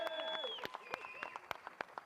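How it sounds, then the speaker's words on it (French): Scattered clapping from an audience at a pit stop challenge podium ceremony for mechanics at Spa-Francorchamps, faint and thinning out into sparse individual claps while a voice talks over it. "Applaudissements, mesdames et messieurs."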